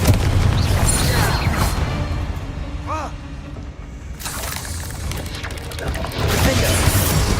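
In a video game, a Confringo fire spell blasts off with a booming burst, and a second explosive hit follows a few seconds later, set against a busy backdrop of game effects.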